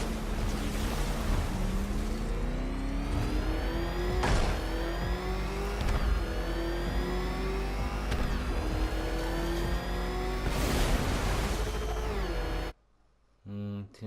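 A battered car engine in the video game Batman Arkham Knight revs hard with rising pitch sweeps and repeated gear-like surges over a steady rumble, loud and continuous before cutting off abruptly near the end.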